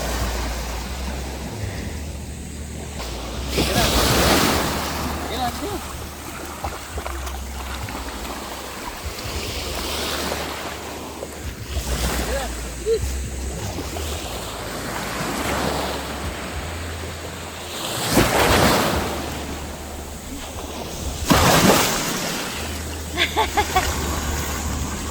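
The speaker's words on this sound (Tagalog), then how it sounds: "Ang lakas ng alon." Strong ocean waves roll in on a beach at Ternate, several loud surges crashing and washing up in turn over constant wind rumble on the microphone.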